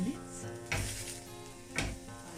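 Creamy chicken square pastry sizzles in a frying pan, a steady crackling hiss with two louder bursts as it is stirred or turned, close by and with no talk.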